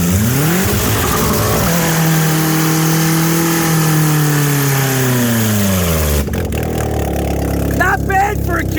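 A Kia Spectra with an open exhaust is revved hard in neutral and held at a loud, raspy high pitch before dropping back. The engine then settles to a rough idle while a voice shouts over it.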